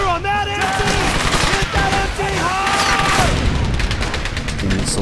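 Rapid gunfire crackles in the World War II shooter Brothers in Arms, loud overlapping bursts and shots layered with whistling and battle effects, continuous throughout with shouted voices mixed in.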